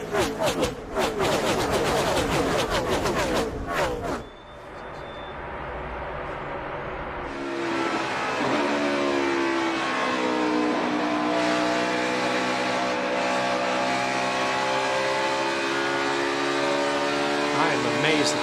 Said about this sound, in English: Amazed that this engine is still running.